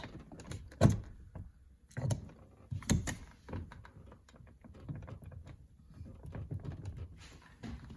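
A Chevy Silverado inside door handle lever is fitted, with several close plastic clicks and thunks spread out between quieter handling noises.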